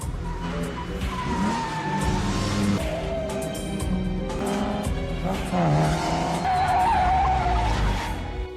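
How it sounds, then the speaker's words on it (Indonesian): Sports car engines, including a red sports car's, roar and rev while tires squeal and skid repeatedly, loud and close, with the sharp screeches rising and falling over the motor noise. "tiba-tiba dari belakang melaju mobil sport merah yang menyalip mobil James dengan sangat kencang dan barbar."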